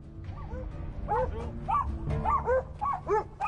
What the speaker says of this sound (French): À l'entrée du camp, les chiens donnent l'alerte